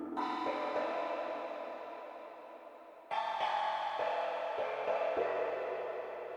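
A bright synth lead in Logic Pro plays sustained notes drenched in a long, washy reverb tail, restarting loudly midway with the echoing wash lingering behind it.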